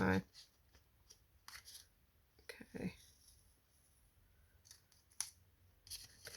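Scissors snipping a small piece off double-sided sticky card stock, several brief crisp cuts spread out with quiet gaps between them, close and fairly soft.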